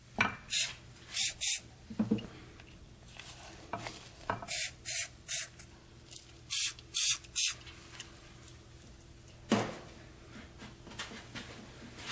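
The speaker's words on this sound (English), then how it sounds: "So I'm going to spray on a little primer." Primer sprayed onto a milled, damaged bearing seat in short hissing aerosol bursts: about a dozen quick, close puffs in clusters of two and three, separated by quiet gaps.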